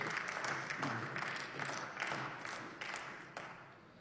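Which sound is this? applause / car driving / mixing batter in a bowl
applause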